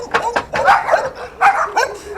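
Several dogs bark and yip in short bursts close by, loud and repeated in quick succession, during roadside work on a jet ski trailer being welded, strapped and roped.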